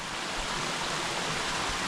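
A 40-metre three-tier waterfall on Jirisan mountain, running with modest water volume, gives off a steady, even rushing roar with no break and no voices.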